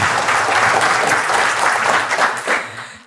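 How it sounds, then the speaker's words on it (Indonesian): An audience at a product demonstration claps in steady, dense applause for about three seconds, fairly loud and close, tapering at the end. "Tepuk tangan lu buat Anda semua ya"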